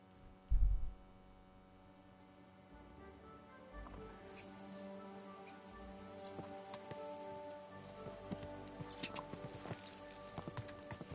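Horse hooves clip-clop softly in Kingdom Come: Deliverance II. A sharp thump comes first, then quiet, uneven hoofsteps grow slightly busier over a wet, rain-like patter.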